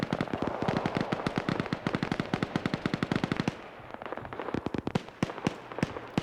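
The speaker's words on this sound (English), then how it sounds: "A lot of those are from MG3s, but you also have the tracers of a BTR firing" Rapid bursts of machine gun fire from MG3s and a BTR in a combat video game, a dense sustained rattle for several seconds that breaks into shorter, sharper staccato volleys, loud and close with no talk.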